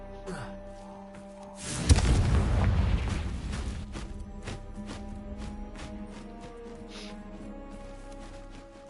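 A Confringo blasting spell goes off in the Hogwarts Legacy video game, a sudden booming burst that rumbles for about a second and then fades into a low steady game background.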